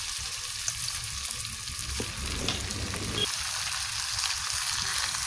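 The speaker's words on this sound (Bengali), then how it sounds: "5-10 মিনিট এরকমভাবে একটু নাড়াচাড়া করতে হবে, ভালো করে ভেজে দিতে হবে" Potatoes and chicken frying in a pan while being stirred, producing a steady, close sizzle with soft scraping movements throughout and no talking.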